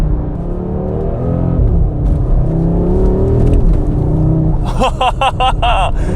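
An Audi RS3 five-cylinder engine accelerates hard, its pitch climbing through the gears in a loud, continuous roar, ending in a rapid burst of crackling pops.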